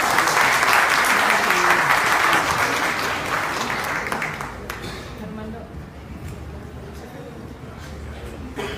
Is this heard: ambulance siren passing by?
no